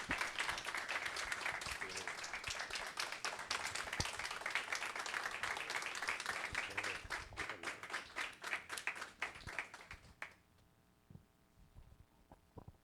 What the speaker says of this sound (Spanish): Un cálido aplauso para el doctor Jesús Félix Iglesias